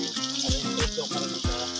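Water gushes and splashes from a disconnected irrigation pipe in a rice-field setting while men repair the joint, with a continuous flowing rush and a few thumps and knocks from handling.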